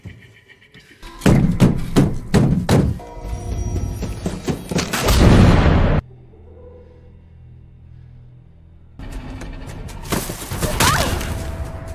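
Several loud, booming shotgun blasts fire in quick succession, followed by a quiet pause and then another burst of harsh noise.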